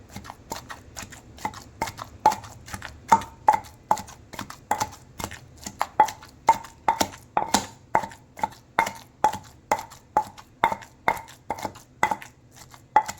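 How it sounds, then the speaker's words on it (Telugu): Mint leaves pounded in a stone mortar for chutney, a steady rhythm of sharp, loud thuds about one or two per second, close and with no talk. "ఇప్పుడు పుదీనాని కూడా రోట్లో వేసి ఇలా దంచుకోవాలి"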